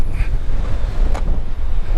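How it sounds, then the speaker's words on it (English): Strong wind buffets the microphone with a constant low rumble and roar, gusting outdoors on the river Humber without letup. "I'll let you hear how windy it is"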